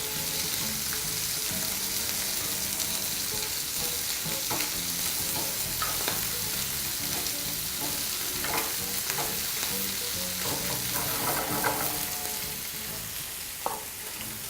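Pork spare ribs sizzling and frying in a pan while being turned, a loud continuous hiss broken by scattered crackles, spatters and scraping knocks of the pieces being moved, with no talk.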